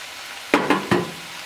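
Garlic dropped into a hot pan for Ethiopian tripa, giving three short bursts of frying and stirring clatter over a quiet sizzle.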